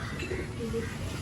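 Pigeons in a loft, young birds being trained, coo softly and repeatedly in a continuous low murmur, close by with no voices over them.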